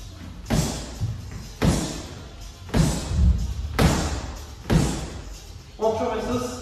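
Gloved punches thud into a padded wall cushion during boxing training, about five heavy blows spaced roughly a second apart, close and solid, followed by a voice at the end.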